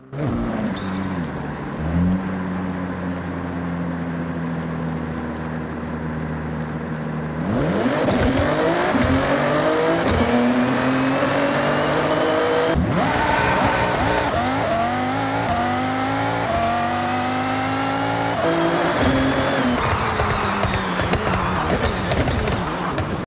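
A Nissan GTR tuned to 2790 hp and a lightweight Mazda Miata drag racing: steady idle burble, then a sudden loud launch with engines screaming up through repeated gear changes, pitch rising and dropping in close succession.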